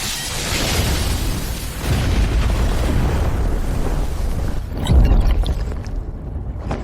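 An explosion in a fantasy martial-arts sword drama: a sustained, roaring blast that rumbles on for several seconds and then swells into a heavier, close boom near the end.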